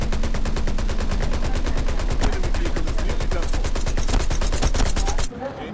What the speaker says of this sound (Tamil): லெஃப்ட்ல ஃபயர் சவுண்ட்